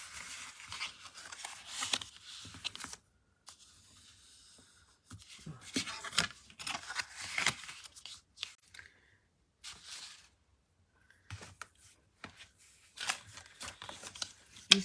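Green paper panels for a birthday card being creased into accordion folds, with soft, close scraping and rustling strokes in bursts separated by short pauses.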